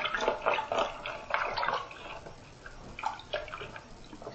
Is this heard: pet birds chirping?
no